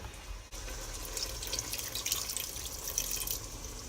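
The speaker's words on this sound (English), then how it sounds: "What I'm going to do is get a little water in here." Kitchen tap water flows into a curry paste box to rinse out leftovers while making Panang curry, a steady close stream with small splashes and drips, no talking.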